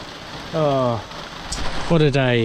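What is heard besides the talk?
rain during cycle climb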